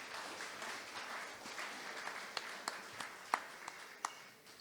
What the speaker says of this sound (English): Can we give a round of applause to that?